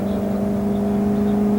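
Engine of a 1997 Fleetwood Bounder 34P RV, a steady low hum with a droning tonal whine as the motorhome drives, close and constant without pauses.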